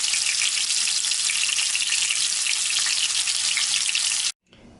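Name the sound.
breaded beef cutlets frying in a pan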